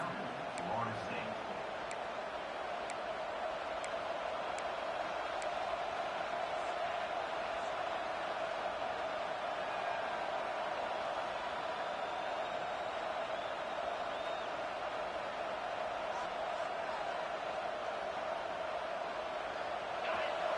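Home football crowd in a college football video game, Florida State versus Oklahoma, roaring steadily on a third-down play, a dense continuous wash of cheering that stays loud throughout with no clear talk over it.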